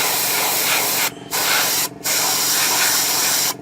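An airbrush sprays paint onto a 1/35 Takom British Chieftain Mk 10 tank model in a steady, close hiss that cuts out in three brief pauses between light coats.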